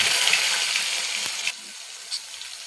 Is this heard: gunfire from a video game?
no